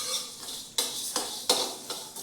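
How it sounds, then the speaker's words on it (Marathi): Coriander seeds and whole spices dry-roasting in a pan over a very low flame, a few sharp scraping stirs against the metal over a quiet hiss, close and clear. "आता आपण त्याच्यात थोडे धने आणि खडे मसाले थोडेसे आपण किंचित फक्त गरम करून घेणार आहे,"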